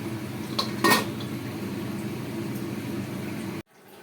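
A lid goes onto a pot of light vegetable curry with one short metallic clank near the start, over a steady low simmering hiss that then stops abruptly.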